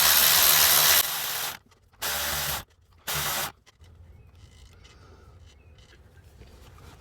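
A power tool tightens a bolt on the alternator of a 1991 Mazda Miata in three loud, close bursts, the first longer, followed by quiet rustling of work on the car.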